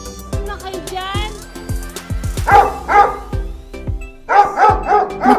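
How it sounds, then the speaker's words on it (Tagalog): A dog barks several times in a short volley, then gives a couple of louder, closer barks, heard during a winter road trip near Panorama Gudauri in Georgia, with other sounds between the barks. "Sinagot ka ng aso."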